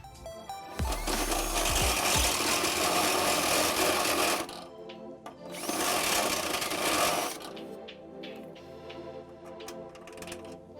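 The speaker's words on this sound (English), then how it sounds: "We will need to enlarge it with a step bit." A drill with a step bit enlarges an access hole in the frame of a 2020-2025 Nissan Sentra for a trailer hitch install, producing two loud, harsh grinding bursts of a few seconds each, then quieter handling noises.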